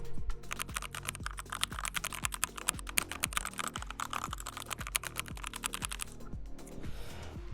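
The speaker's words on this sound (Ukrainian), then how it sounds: "Це дуже-дуже крутелезний звук чистої механіки" Rapid, steady clacking of keys on a Vickyboard ergonomic mechanical keyboard, close and crisp, with a continuous rhythm of key presses and no talking.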